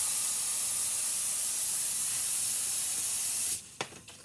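A paint spray gun loaded with Rustoleum tractor paint hisses in a loud, steady spray onto cardboard, then cuts off near the end into a few short bursts.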